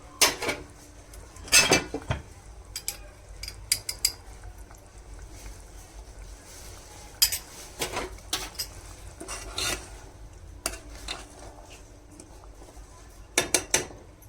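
A spoon stirs spinach and egg masala in a metal pot, giving scattered scrapes and clinks against the pot with quiet pauses between them, close and fairly soft, with no talking.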